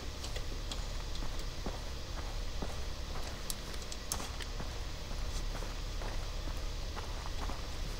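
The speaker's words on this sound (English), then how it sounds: "Guy's loud footsteps." Footsteps of a character walking in the video game Far Cry 3, a steady run of loud, crunchy steps over constant rumbling ambience, with no talk.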